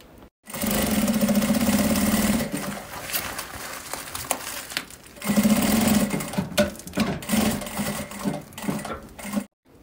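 A sewing machine stitches a seam on a thermal bag in two loud, steady whirring runs with brief pauses and lighter bursts between, up close and with no speech.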